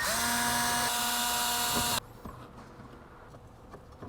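Power drill backing out screws from the center console of a Toyota Tundra, one loud high whirring burst lasting about two seconds close up, followed by quiet handling clicks.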